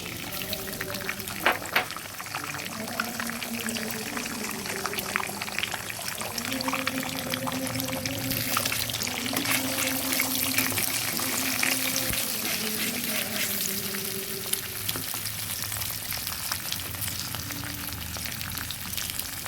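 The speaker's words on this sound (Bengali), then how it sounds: "কড়াইতে একটু তেল দিয়ে আমি ওখানে দুটো ডিম ঢেলে দিচ্ছি" Two eggs are poured into hot oil in a wok, setting off a loud, continuous close sizzle and crackle that holds steady throughout.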